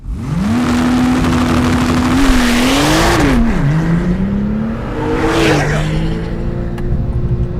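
A COBB Stage 2 Porsche 997 Turbo launches hard on the Harris Hill road course, engine roaring loud and close as it climbs through the revs, with sharp pitch drops at the gear changes.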